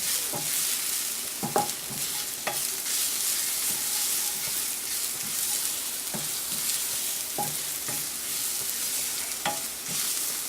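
Masoor dal ingredients fry in a pan over fairly high heat, giving a steady, close sizzle and hiss broken by occasional light clicks of stirring.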